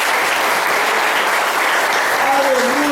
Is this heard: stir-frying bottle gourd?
no